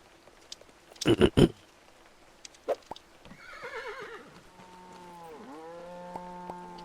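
A horse neighs in the Old Market Simulator farming game, a long wavering whinny after a few loud knocks, followed by a sustained tonal drone; no talking.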